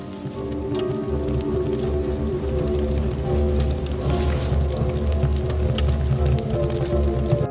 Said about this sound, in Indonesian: hingga datanglah hujan untuk pertama kalinya sejak sekian lama